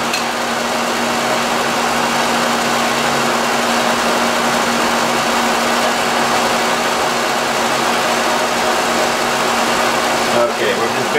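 A machine tool runs at about 153 RPM while cutting a tractor axle drive hub, giving a steady, loud mechanical hum with a constant tone throughout, as someone talks over it.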